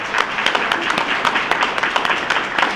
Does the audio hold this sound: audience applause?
yes